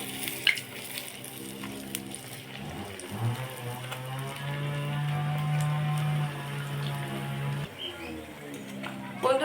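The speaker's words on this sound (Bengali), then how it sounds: "আমি যেহেতু উনুনে ভাজছি, উনুনের জাল বাড়িয়ে কমিয়ে মিডিয়াম আঁচেই ভাজলাম" A large sandwich fries in oil over a clay stove at medium heat, a steady soft sizzle running beneath someone talking, with faint bird calls in the background.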